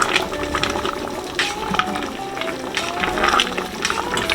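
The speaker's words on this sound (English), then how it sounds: "Let's give this pot a stir." A pot of deer and vegetable stew being stirred after simmering about an hour and a half: soft bubbling and wet sloshing with intermittent scraping clicks of the spoon against the bottom, close and fairly quiet.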